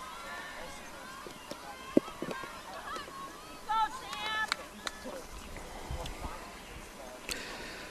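Geese honking from a flock out in left field during a high school baseball game, a few scattered calls around the middle amid general outdoor ambience.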